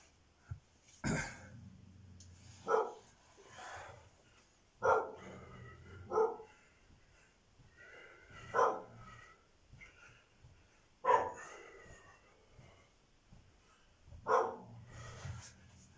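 A dog barks in separate sharp bursts, roughly every one to three seconds, fairly close by, with a few softer whines between them and no talking.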